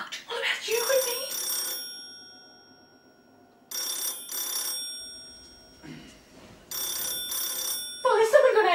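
A telephone bell rings in three separate bursts, each a bright trilling ring with a gap of quiet between, while people talk over and between the rings in an indoor scene.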